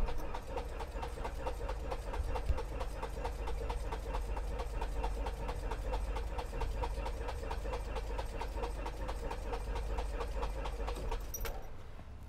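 A small airplane engine cranks steadily with a rapid, even chugging rhythm throughout but never catches, then stops with a faint click at the end.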